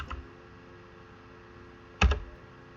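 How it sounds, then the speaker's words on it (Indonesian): Computer keyboard typing a MySQL command: a short click at the start, a pause, then a quick, loud cluster of two or three keystrokes close by. "lalu setelah itu kita mengetik mysql spasi min u spasi root"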